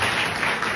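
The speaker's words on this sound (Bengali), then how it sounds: "please have a round of applause for him" An audience at a career talk on the Indian Air Force breaks into applause, a dense, steady wash of many hands clapping that fills the whole moment at an even, fairly loud level.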